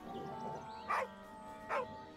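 Dog barking in the video game Baldur's Gate 3: two short, fairly faint barks about a second apart over a low steady background hum.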